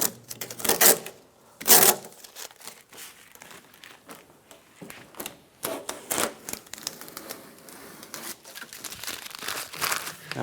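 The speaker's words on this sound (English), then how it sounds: "Now we can pull the tape off." Masking tape being peeled off the door panel of a 2002-2008 Dodge Ram 1500 during power window motor and regulator work, heard as close crinkling rips and tearing bursts with quieter rustling between.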